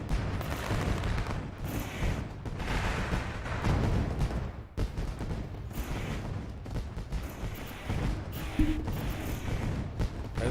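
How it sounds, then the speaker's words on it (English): Fireworks going off at Eldora Speedway during a dirt track race event, a continuous rumbling barrage of bursts and crackle that stays dense and fairly loud throughout. "it sounds like the fireworks are shooting off here at Eldora as we speak"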